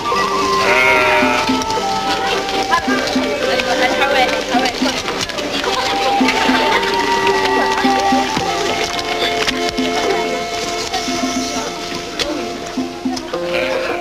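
A flock of sheep bleats repeatedly, with overlapping calls near and far under a voice talking throughout.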